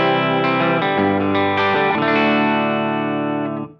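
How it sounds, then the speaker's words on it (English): A 2022 Yamaha Revstar Standard electric guitar with heavy distortion plays sustained, saturated chords that ring out loudly before fading at the end. "when you turn on that distortion, it gets really, really lovely"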